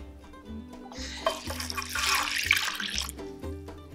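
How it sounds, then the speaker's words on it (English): Water pours steadily into an Instant Pot holding oats for oatmeal, a close, bright splashing rush that swells and fades over a few seconds, with a low background hum underneath and no talking. "We're gonna add the water."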